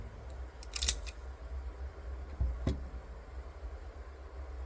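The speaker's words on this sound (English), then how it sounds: "Gonna drop the mag. Drop the round." Magazine and a loose round dropping from a Star Model BM pistol, two short metallic clicks and clatters about two seconds apart over a low steady background hum.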